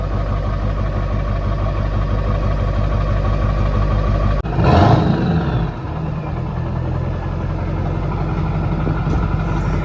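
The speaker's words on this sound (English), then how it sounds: "Wait for the turbo vanes, it sounds cool." A truck engine idles with a steady low drone, then a brief loud whooshing surge from its turbocharger vanes spooling rises midway before settling back to the idle rumble.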